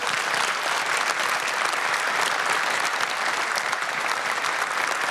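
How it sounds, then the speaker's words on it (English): Sustained applause from a conference audience at an economic outlook event, honoring investors; dense steady clapping fills the room for about five seconds with no speech. "we need to give them a round of applause."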